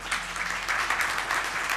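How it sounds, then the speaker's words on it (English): Audience applause at a downtown New Orleans awards event, steady clapping from a partial crowd filling the whole moment at moderate volume, with no voices rising above it. "only half the people applauded there"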